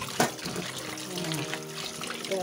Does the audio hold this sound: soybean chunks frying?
no